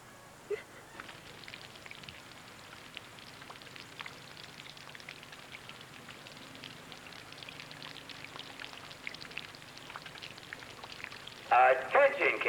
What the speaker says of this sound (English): it is still tinkling out, so grab your life preservers and rain gear and walk between the drops